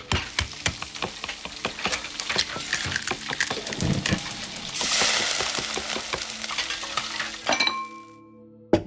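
Cooking in the Resident Evil Village video game: close, repeated clinks of utensils against pots and dishes with stirring and a soft sizzle partway through, a busy rhythmic clatter that ends in a short chime.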